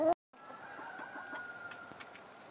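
Hens on a homestead cluck softly and steadily at close range, with a brief burst of sharper squawking at the very start before a short gap.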